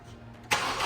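A car engine, after a compression test, cranks briefly and catches, then settles into a close, steady running idle.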